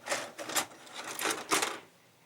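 An old VCR takes in a VHS tape, with a series of close mechanical clunks and whirring loading sounds in uneven bursts, then quiet.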